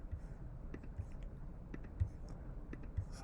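A computer mouse clicks at a desk while layers are merged in an image editor, with sharp, faint clicks spaced about once a second over a quiet background.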